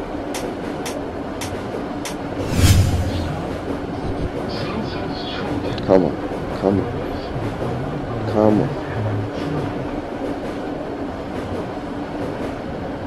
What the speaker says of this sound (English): Told you guys, this is the fastest train.